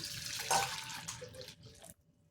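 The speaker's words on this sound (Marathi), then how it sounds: "मी एका भांड्यात गरम पाणी घालणार आहे" Hot water poured steadily into a cooking pot to soak soybeans for soy chilli, a splashing, hissing stream for about two seconds before it stops abruptly.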